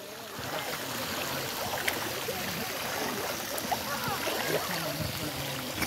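Water splashing in a swimming pool, light continuous sloshing and small splashes close by, fairly quiet, with bits of voice now and then.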